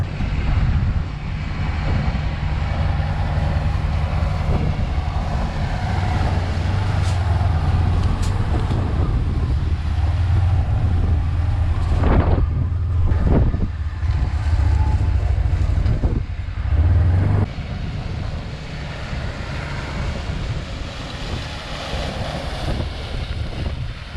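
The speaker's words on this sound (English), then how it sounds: "He's gonna rake it up quick. He got a new type of rake this year that is similar to one we tried last year. It's a rotary rake." A tractor pulling a rotary rake works through cut rye in an open field, its engine drone steady and fairly close throughout, with gusting wind buffeting the microphone and a few brief clunks midway.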